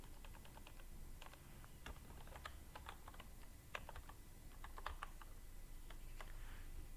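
Typing on a computer keyboard, a quiet, steady patter of light keystrokes in irregular bursts, close but faint, with no talk.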